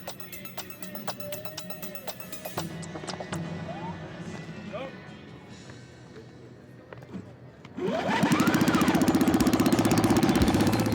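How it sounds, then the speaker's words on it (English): A supermileage competition car's small engine fires up after a stretch of background chatter, then runs loud and steady with a fast, even pulsing close by. "The engine starts first time."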